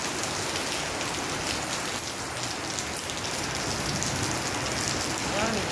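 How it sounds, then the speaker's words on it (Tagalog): Steady rain falls on a surface, with a dense, even patter of drops close by throughout and no pause. "Ulan."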